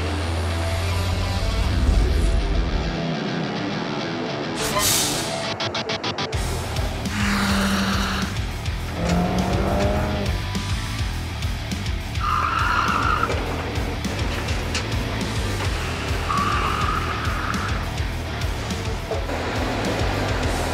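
Racing game FlatOut with a Mercedes-Benz E-Class coupe: loud continuous engine roar with repeated tire skids and squeals, scraping and crash noises throughout, no talk.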